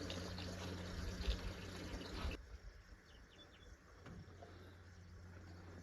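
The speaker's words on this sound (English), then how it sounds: "We're filling the trough." Water from a tank fills a livestock trough outdoors, a steady rushing gush that cuts off partway, leaving a softer trickle and faint background noise.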